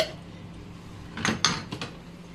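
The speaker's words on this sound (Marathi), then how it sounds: "हा एक कंटेनर आहे ज्याच्यामध्ये सगळे ग्लास बॉटल्स आहेत" Glass bottles taken from a container inside a fridge clink together in a few sharp, close knocks in quick succession against a quiet background.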